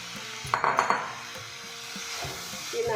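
Washed drumstick flowers tipped into a hot pan for a vegetarian dish, a quick burst of clinks and rustles, then a steady close sizzle with occasional stirring and utensil taps.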